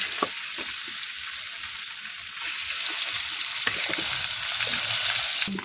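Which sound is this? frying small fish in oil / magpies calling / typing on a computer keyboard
frying small fish in oil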